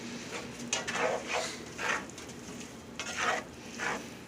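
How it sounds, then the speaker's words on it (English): A spoon stirs cilantro into a lobster stuffing mixture, producing soft, rhythmic, moist scraping strokes about every half second, close and moderate in level over a faint background hiss. "Now stir in the cilantro into your little mixture."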